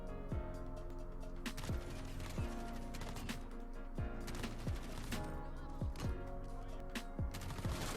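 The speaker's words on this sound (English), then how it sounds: "the fire rate that this gun has, it's just insane how fast it runs through people" A Kilo 141 assault rifle fires in Call of Duty Modern Warfare, with fast rapid-fire bursts repeating through the clip over music, loud and close.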